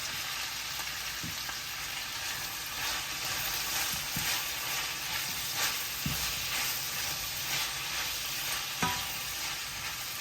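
Bell pepper frying in a hot pan for Malaysian-style chili chicken, a loud continuous sizzle broken by scraping stirs every couple of seconds, with no talking.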